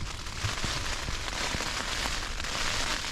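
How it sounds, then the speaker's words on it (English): Heavy rain hammers steadily on a Terra Nova tent during a windy Dartmoor wild camp, a dense close hiss broken by sharper drop impacts. "As you can hear, it's still raining pretty hard."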